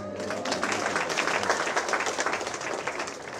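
An audience at a primary school commissioning ceremony in Guyana applauds teachers, steady dense clapping filling the whole stretch at moderate volume.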